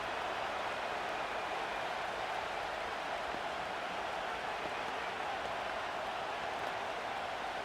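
Steady wash of stadium crowd noise from a Madden NFL 25 game during a Lions versus Texans matchup near the goal line, a dense continuous roar like rain or applause, loud and unbroken throughout.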